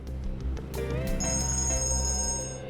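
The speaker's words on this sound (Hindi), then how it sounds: "एक मिनट, फोन आ रहा है।" A phone rings with a bright, sustained electronic tone that starts partway through and continues steadily over a low background hum.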